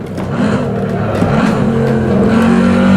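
Corvette C7 Stingray engine in the Assetto Corsa racing game, lapping the Nordschleife after the version 1.5 update; a steady, loud droning engine note that builds slightly over a few seconds with no one speaking.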